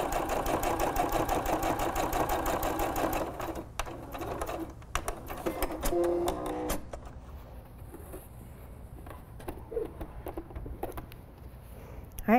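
A sewing machine stitches the elastic seam of a bath towel cap with a steady, close mechanical hum that breaks off partway, followed by quieter handling clicks and fabric rustle.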